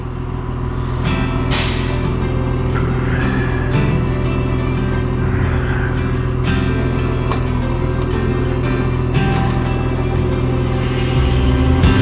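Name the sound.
vehicle driving down driveway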